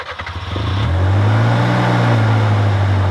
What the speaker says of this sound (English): it takes a minute, really a few seconds, of cranking to start it when it's warmed up